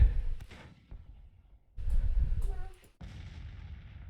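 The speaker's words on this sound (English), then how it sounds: "Just have them bombard these guys" Artillery in the Grand Tactician strategy game booms in a bombardment of deep, muffled blasts, several heavy thuds spaced a second or so apart and rolling away between shots.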